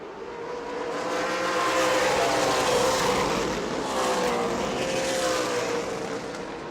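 Super Late Model stock cars race around a short oval during World Series competition at New Smyrna, a loud, sustained pack of engines roaring and droning past with no talk.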